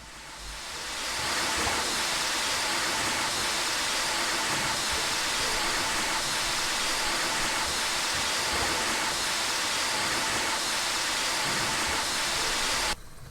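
A steady, loud hiss of rushing steam and water sprays out continuously from a video game steam locomotive on the Brockenbahn blowing water out, with no talking.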